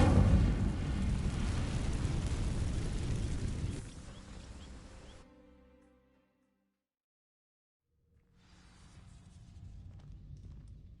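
In the Hogwarts Legacy game, the Incendio fire spell sets dry vines ablaze with a loud roaring burst. It fades over several seconds into silence, then a low rumble rises again.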